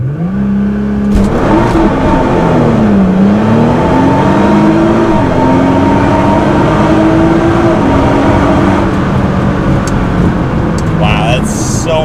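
A tuned Nissan GT-R launches hard with heavy wheelspin, its engine roaring loud and close as the revs climb and dip in uneven surges over several seconds, with tyre noise underneath.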